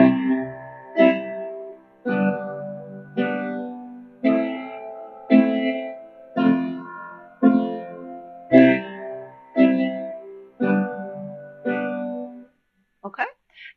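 Piano playing the chords of a song, left hand holding on the first beat and right hand striking each chord twice, in a steady pattern of about a dozen evenly spaced chord hits alone.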